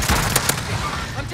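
Gunfire in Call of Duty Warzone Resurgence, with a few sharp shots from Sykov akimbo pistols cracking out close by over a dense game soundscape and talk.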